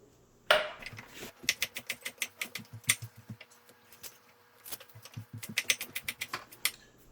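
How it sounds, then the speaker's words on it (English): A knife chops carrot, celery and onion into big chunks on a cutting board. Crisp, irregular taps come close together in quick bursts with short pauses. "Now we cut our veggies in big chunks"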